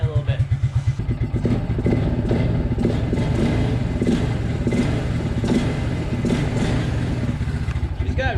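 A Suzuki King Quad 300 ATV engine runs close by with a loud, steady, throbbing idle and rough revving, while a person talks over it.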